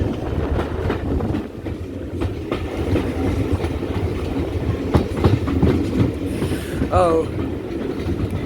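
Steam tank locomotive 4247 in British Railways black on the Paignton and Dartmouth Steam Railway, heard as a steady rumble of running with rhythmic clicks, and a brief whistle-like squeal near the end. A voice speaks briefly.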